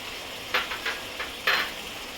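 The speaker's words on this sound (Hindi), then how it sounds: "इसी वक्त इसमें मैं मटर डाल दूंगी। मटर भी साथ में भूनता रहेगा।" Tomatoes and peas fry in a pan over high flame, a soft steady sizzle broken by a few brief scraping stirs, close and quiet with no voices.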